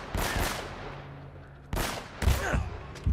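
Gunfire in the video game Uncharted: Drake's Fortune, bursts of rapid shots in an enemy firefight, several clustered volleys with short pauses, moderately loud and without talking.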